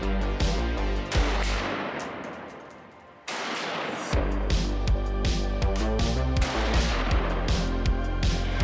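Rapid gunshots from an FB Radom Beryl 5.56 AK-pattern rifle during zeroing at a range: loud sharp reports in close succession, a pause, then a steady run of evenly spaced shots, close and dominant.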